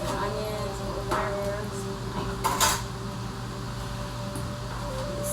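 Drained cheese raviolis tipped into a hot pan holding peppers and onions, heard as a few clattering knocks and scrapes of cookware against a steady kitchen hum, close by.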